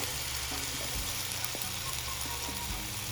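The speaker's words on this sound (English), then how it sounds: "I'm gonna add more teriyaki sauce to our mixture" Teriyaki sauce hits a sizzling chicken mixture in a hot pan, giving a steady close frying hiss with low stirring rumble throughout, no talking.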